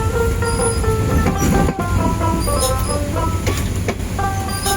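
Bijoy Express train running on the rails, a loud continuous rumble with rhythmic wheel clatter and faint squealing tones, heard close up from on board.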